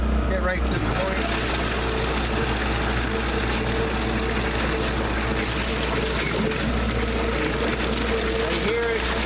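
A Liberty Omnivore grinder pump chews through denim, a steady loud motor drone with rough chipping and churning, briefly bogging down as the dual capacitor motor works against the fabric.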